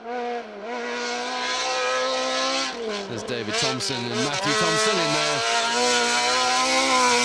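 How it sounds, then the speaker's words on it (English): A Vauxhall Corsa rally car with an apparently broken exhaust blasts loudly past on a forest stage in the Kielder Forest Rally, engine note rising and shifting through gear changes, while a commentator talks over it. "Another car coming into view"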